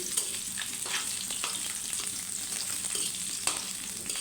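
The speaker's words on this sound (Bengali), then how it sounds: "এটা খুব সুন্দর করে ভেজে নিব" Dried red chillies fry in a pan, giving a steady close sizzle and crackle with occasional stirring scrapes throughout.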